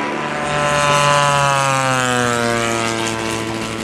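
A P-47 fighter in a flight simulator takes off, its propeller engine droning loud and steady with a harmonic whine that rises slightly as the plane gathers speed.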